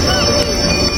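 A train in Italy rumbles close by with a steady roar of wheels on track and a thin high metallic squeal riding above it, brief and loud.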